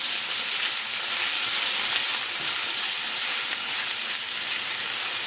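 Tofu sautéing in a pan gives a steady, loud, dense sizzle with a constant hiss, unbroken and with no talking.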